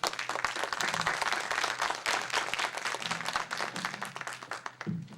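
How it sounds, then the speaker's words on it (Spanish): Applause from an audience at an academic talk on collaboration networks in educational institutions, dense steady clapping filling the whole stretch before tapering off at the end. "Brindémosle un fuerte aplauso, por favor."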